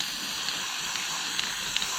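An aerosol can sprays black paint onto a part of an oil boiler during installation, giving a steady close hiss with a few faint clicks and ticks and no talking.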